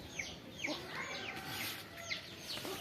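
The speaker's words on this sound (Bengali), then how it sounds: "আমরা একটু মুরগি দেখতেছি, দেশি মুরগি।" Local desi chickens cluck in a faint, scattered series of short calls against a low background hum, with no talk over them.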